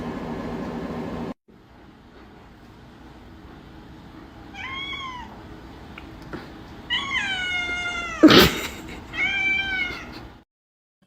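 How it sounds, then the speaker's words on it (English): A hungry cat meows several times, drawn-out wavering cries growing louder and more insistent, with one sharp loud sound among them, over faint background hum indoors. "The cat wants its food. That's why you hear the cat in the background."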